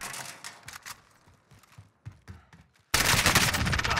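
An AK rifle in a video game rattles off a sudden, loud, continuous burst of automatic fire after a few scattered clicks and soft knocks.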